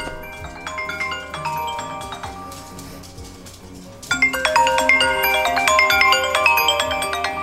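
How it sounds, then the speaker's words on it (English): A phone rings with an incoming call, a looping electronic ringtone melody that gets noticeably louder partway through, in a dining room setting with no talk over it. "I'm getting a lot of those phone calls."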